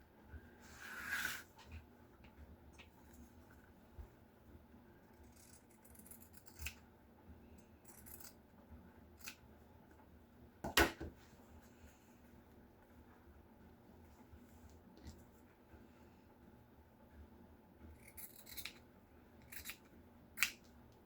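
Scissors snip through fabric ties for a junk journal closure, giving a handful of quiet, scattered cuts with soft rustling between them, close by and without talk.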